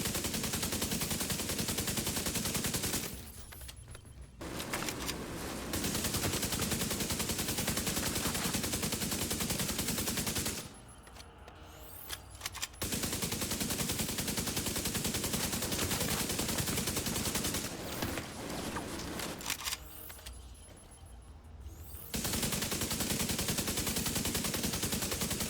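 Sustained automatic gunfire from the Division 2 video game in long, dense bursts separated by short gaps, loud and close, with no talking.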